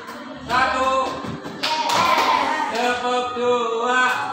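A fifth-grade class in an Indonesian classroom doing a counting clap game, with a few bursts of group hand clapping mixed among children's voices chanting, fairly close and lively.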